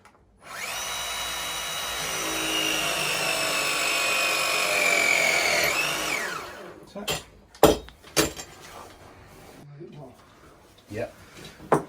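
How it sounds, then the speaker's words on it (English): A core drill bores a hole through a wall for a boiler condensate pipe, droning loudly and steadily for about six seconds before winding down, followed by sharp clinks and knocks as people talk. "they're just coring out for condensate pipe"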